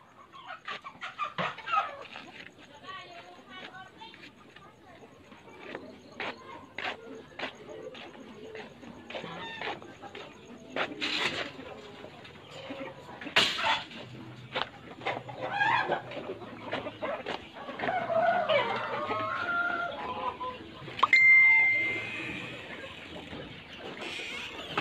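Chickens and young chicks cluck intermittently around a farm pen, with scattered peeps, rustles and knocks spread over a fairly long stretch and a louder burst near the end.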